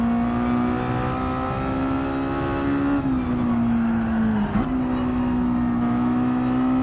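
Race car engine in the Gran Turismo 7 game, a steady high engine drone held under load through a corner, with one brief dip in pitch as the car brakes, alone without talk.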